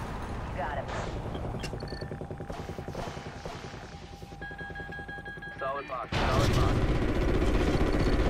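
Rapid rattling bursts of automatic gunfire from an attack aircraft in the Call of Duty Ghosts campaign, a dense stream of repeated shots with an engine-like drone underneath, ending in a louder roaring blast.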